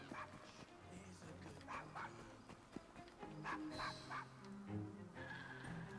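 A dog in the video game Assassin's Creed Syndicate barks and whimpers in repeated yips over game music and background sound, with voices talking at times.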